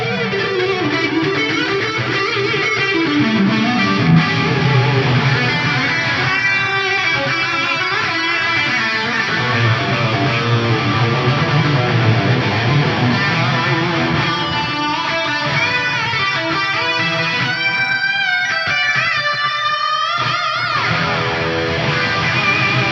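An electric guitar plays through a Fractal FM3 preset with stereo BBD chorus and chorus hall reverb with dual detune, a lush, shimmering, mildly driven tone sounding alone and continuously with chords and melodic runs.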